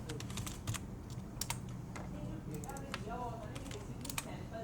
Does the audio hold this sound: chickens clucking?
no